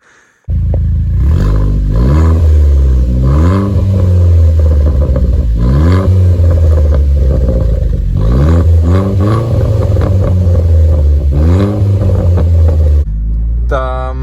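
An Opel Corsa tuned to stage 2 with 175 horsepower on a road test. The engine revs up hard through several gears in repeated rising sweeps, with close, loud rumble and a short pause near the end, then people speak.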